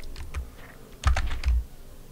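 Keyboard keys clatter in quick irregular bursts during a zombie survival game, a few sharper clusters of presses standing out close and clear with no talking.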